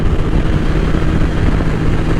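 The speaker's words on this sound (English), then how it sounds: "And this exhaust that this bike has, it's on the quieter side, but it sounds good. Vance and Hines." A 2000 Suzuki Hayabusa motorcycle with a Vance and Hines exhaust runs steadily nearby, a low, even, fairly mellow engine rumble holding at a constant pace with no speech.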